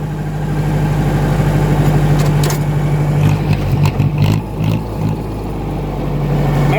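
A 2010 John Deere tractor engine runs steadily while driving, a loud, constant low drone with a firm hum, rising slightly in roughness midway before settling again.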